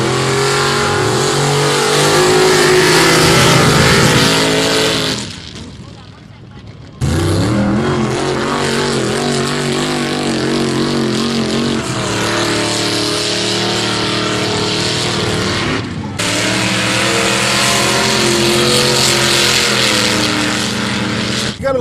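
A mud bogging truck engine revs hard and loud up close in sustained roaring bursts, dropping away briefly and then surging again, with no talk over it.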